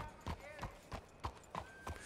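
Horse hooves clip-clop on the ground in Red Dead Redemption 2, with about seven evenly spaced, close hoof strikes sounding under faint background noise.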